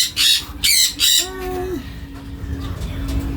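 Parakeets kept alongside hens give several loud harsh squawks in quick succession, followed by a thinner whistled call, over a low background hum.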